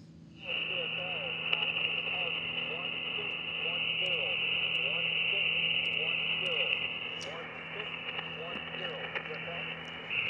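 Faint amateur radio transmission from a portable station on an island in a state park, buried in steady static and a high whining tone, with a voice speaking over it.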